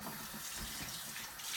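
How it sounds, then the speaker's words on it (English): A sink tap runs steadily as an egg is rinsed under it, a short burst of quiet, continuous hissing water with no speech. "I'll do a quick rinse right there."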